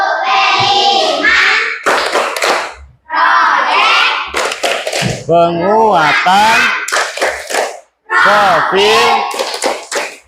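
A class of schoolchildren performs the Tepuk P5 clap chant as an icebreaker, sharp bursts of clapping in rhythmic groups alternating with loud, close chanted voices throughout.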